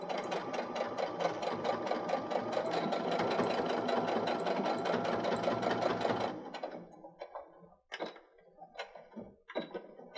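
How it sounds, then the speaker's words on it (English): A sewing machine stitching elastic runs steadily at speed for about six seconds, a dense mechanical whir of needle strokes, then slows into a few irregular stitching bursts and clunks. "run it through the sewing machine"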